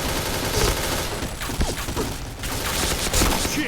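Shooting video game gunfire crackles in quick repeated bursts, dense and fairly loud throughout, with a few sharper individual shots standing out.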